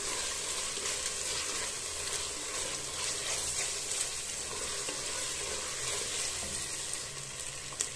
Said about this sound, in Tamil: இப்போ நம்ம பாதியாக கொத்தமல்லி எடுத்து வச்சுருக்குறோம், அதையும் சேர்த்துடலாம். சேர்த்துட்டு ஒரு வதக்க வைக்கிறோம்.